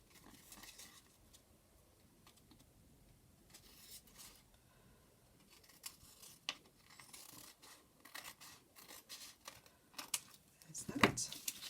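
Scissors snip and rustle through paper during a tag-making craft session, a series of soft close scraping cuts with small rustles, ending in a louder, sharper snip.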